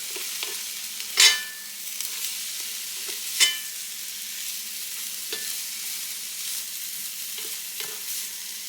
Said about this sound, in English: Just continue cooking it on a low to medium heat until that slaw mix cooks down and is nice and tender.